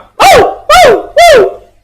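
A man imitates a dog barking with three loud, evenly spaced vocal woofs, each rising and falling in pitch, made alone and close up with no other talk around them.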